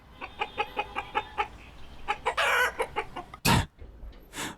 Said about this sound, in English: Oh, your character just sounds like a chicken.